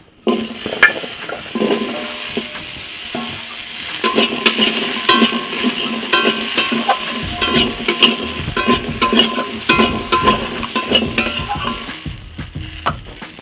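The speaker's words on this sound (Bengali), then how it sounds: "যে আলুগুলো কুঁচিয়ে আমি ধুয়ে রেখেছিলাম সেই আলুগুলো এখন কড়াতে উঠিয়ে দিচ্ছি" Washed, chopped potatoes tip into hot oil in a wok and fry with a loud, steady sizzle, while a metal spatula stirs and clanks against the pan close by, with no talk.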